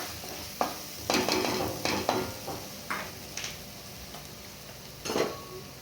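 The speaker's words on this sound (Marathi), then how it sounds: "अजून थोडा वेळ आपला मसाला आपण असाच परतत ठेवायचा आहे" Masala for a shev bhaji curry sautés quietly in a pan, a low sizzle broken by several sharp scrapes and taps of a spoon against the pan, close and without speech.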